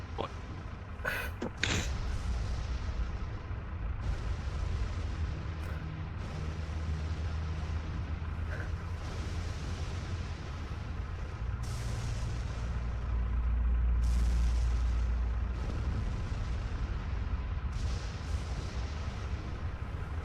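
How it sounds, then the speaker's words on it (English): Distant explosion booms rumble through a tabletop roleplay one-shot scene, a deep, sustained low roar that swells and lingers across the clip with no voices over it. "You hear that distant boom once again"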